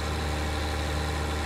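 A tractor engine in Farming Simulator 19, straining under load, drones steadily at a low pitch with a constant vibrating rumble, alone with no talk.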